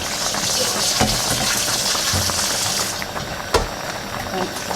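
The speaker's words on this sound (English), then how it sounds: "The beans are continuing to boil on full heat." Dried beans boiling hard in a saucepan on full heat, a steady loud bubbling and churning roar with a few clinks, heard up close without any talking.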